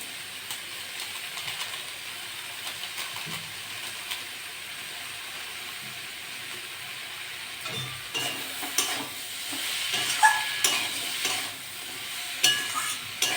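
Spice paste with tomato and Kashmiri chili fries in a pan for a small-fish potato and eggplant dish, a soft continuous sizzle with scraping stirs that grow louder and more frequent toward the end.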